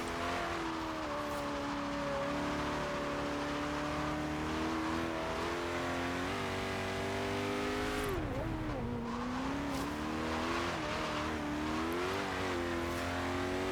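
A high-revving car engine roars steadily in Forza Horizon 3, its pitch sweeping up and down through gear changes, dipping sharply around the middle and then climbing again, loud and continuous throughout.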